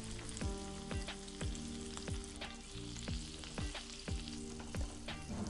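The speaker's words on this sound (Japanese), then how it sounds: "してまた10分ほど蒸し焼きにします。" Pork belly chashu steam-fries in a covered pan over low heat, sizzling steadily with regular ticking pops close by. No one talks.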